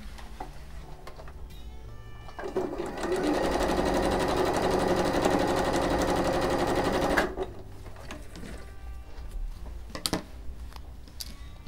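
A sewing machine runs in one steady continuous burst for about five seconds, stitching pinned patchwork fabric for a tablecloth, with quieter handling of cloth before and after.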